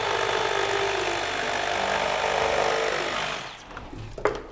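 A power saw cuts through wall sheathing to open a window, giving a loud, steady whining buzz that stops near the end and leaves a few faint knocks and handling sounds.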